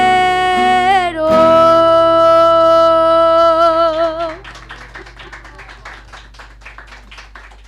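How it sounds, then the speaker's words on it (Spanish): Audience at a folk music peña applauds as sustained accordion tones fade out, breaking into a lively wash of clapping over the last few seconds. "Bravo, fuerte el aplauso."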